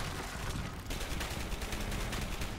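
Dense, continuous gunfire from the video game Dark Sector, with rapid overlapping shots forming a loud, sustained barrage through the whole stretch and no pause.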